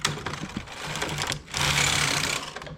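A knitting machine carriage runs across the needle bed, laying yarn over the needles while working rice stitch. A short mechanical clatter comes first, then a louder, sustained sweeping rattle as the carriage travels. No one speaks.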